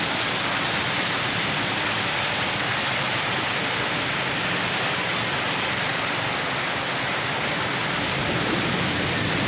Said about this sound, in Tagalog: Maulan guys, maulan.